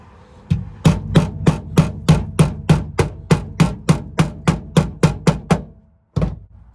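Hammer blows land on a tacked-in steel floor patch panel during rusted car floor repair, about sixteen sharp metallic strikes in a fast, even rhythm, loud and close, then a pause and one final hit.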